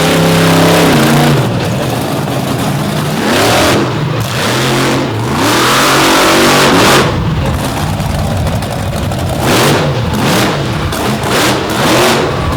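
Several monster trucks race in an Illinois arena, a Ford and a Chevrolet among them, with engines loudly revving and roaring at close range, pitch rising and falling in repeated surges with no break.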